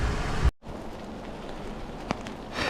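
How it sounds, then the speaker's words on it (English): Pouring rain hisses steadily and close, briefly cut off early, then returns as a dense wet patter with a few sharper drops. "It's pouring down rain."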